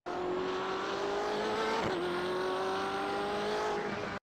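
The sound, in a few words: BMW M8 GTE race car accelerating at Spa in video game iRacing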